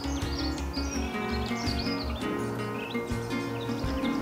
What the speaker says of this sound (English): somewhere in this tree, a black-cap